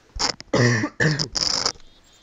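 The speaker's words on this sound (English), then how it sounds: "for all the coughing you might hear in this video." A sick person coughs and clears their throat several times in quick, rough, close bursts.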